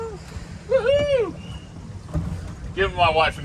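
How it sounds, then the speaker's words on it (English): Motorboat running through canal water near Hernando Beach, with a steady rush of engine and hull noise and wind buffeting, while people shout and whoop excitedly over it. "Now you know why he's driving the boat."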